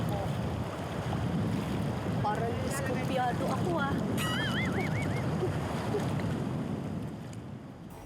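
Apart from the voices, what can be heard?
strong sea waves near a boat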